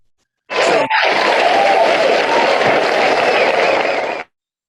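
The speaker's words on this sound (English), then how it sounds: "Darren got applause too" A short swell of applause for Darren on a chat show starts abruptly, stays loud and dense for about four seconds with a brief dip early on, then cuts off sharply.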